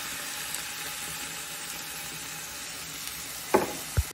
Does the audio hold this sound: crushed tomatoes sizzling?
yes